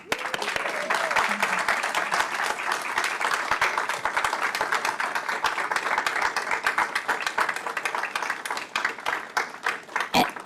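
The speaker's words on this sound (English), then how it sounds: "Please join me in a wonderful round of applause for Coach Rising." Applause at a school board meeting for a coach, a steady round of clapping from a seated audience lasting several seconds, fairly even and moderately distant, with sharper individual claps near the end.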